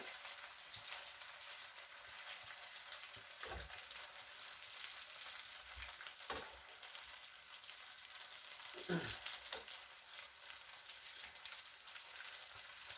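Chicken tandoori pastillas fry in hot oil with a steady, bright crackling sizzle throughout, punctuated by a few soft knocks, heard at moderate distance without talk.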